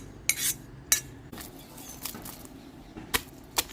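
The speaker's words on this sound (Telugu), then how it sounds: "ఇప్పుడు మనం పుచ్చకాయ ముక్కలు కూడా వేసేసి మెత్తగా మెదుపుకున్నాం." A pestle mashes watermelon pieces into tamarind and cumin chutney in a stone mortar, giving sharp, irregular knocks and scrapes a few times a second over soft grinding, close and clear with no voices.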